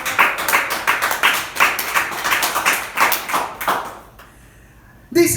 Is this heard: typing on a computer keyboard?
no